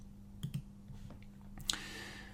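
Computer mouse clicks on a button in a software setup window: a quick pair of close, crisp clicks, then a fainter click and a sharper tick a moment later, over a quiet room.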